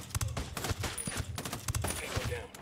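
Coordinated gunfire in Ghost Recon Wildlands, several sharp simultaneous shots cracking together in two quick clusters, loud and close over a low background rumble.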